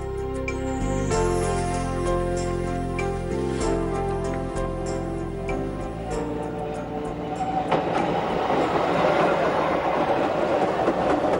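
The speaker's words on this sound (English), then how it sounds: "Our train now makes a final push towards the summit, passing over the steepest section of this route" Jungfrau Railway rack train climbing the steepest section of its route toward the summit at a gradient of 1 in 5, with a steady loud mechanical drone and rhythmic wheel clatter, building into a rougher, noisier rumble near the end.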